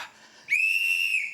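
An audience member at a 1980s British comedy show blows a loud whistle, a single sustained shrill tone lasting just under a second after a brief moment of quiet.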